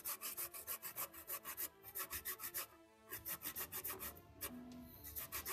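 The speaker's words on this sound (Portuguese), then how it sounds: "E eu vou ralar essa batata doce aqui, ó." Raw sweet potato is grated by hand on a grater in quick rhythmic strokes, each scraping rasp repeating in even bursts with a short pause midway, close and fairly quiet with no talk.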